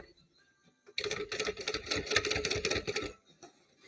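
A sewing machine stitches a fabric bag sewn in the round, running in a steady rapid clatter for about two seconds up close after a quiet start, then stopping.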